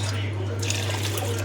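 Rice being rinsed by hand in water, a soft continuous sloshing and swishing of grains and liquid close by, steady and moderately quiet over a constant low hum.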